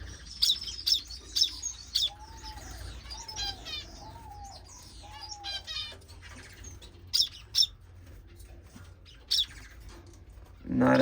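Pet birds in an indoor bird room chirp and tweet in scattered bursts, with a run of repeated rising calls and occasional wing flutters, fairly close and otherwise quiet, ending in a louder rustle.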